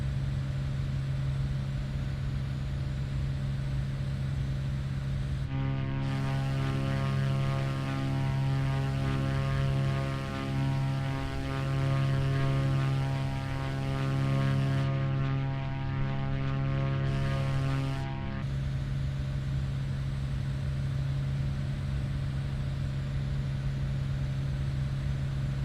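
Propeller aircraft engine in Microsoft Flight Simulator 2020 drones steadily, then a richer, louder throttled-up tone takes over for about twelve seconds before easing back to the lower hum; no voices.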